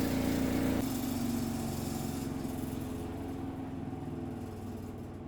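A portable washing machine winds down from its spin cycle, a steady motor whine that drops in pitch after the first second and fades gradually as the drum slows to a stop.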